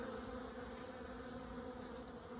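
Honeybees at an apiary in early spring hum in a steady, close droning buzz, the dense swarm sound holding unbroken without voices.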